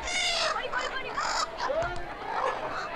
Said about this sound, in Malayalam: അയ്യോ എന്റെ കോഴികള്.